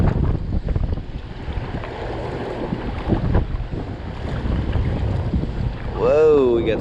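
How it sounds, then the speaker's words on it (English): Wind gusts across a river during a boating trip below Center Hill Dam, a steady broadband rush and buffeting against the microphone, with a brief higher whistling tone near the end. "Whoa, we got some wind."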